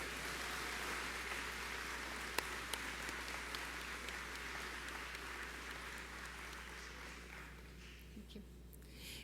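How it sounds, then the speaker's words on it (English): At a nursing pinning and commencement ceremony, an audience applauds in a soft, distant, continuous patter of many hands over a low steady hum, gradually thinning toward the end. "Let's give them all a round of applause"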